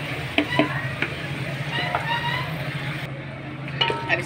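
Leftover masala tipped into onions frying in a pan and stirred, with a soft steady sizzle under scattered clinks and scrapes of a spoon against the metal.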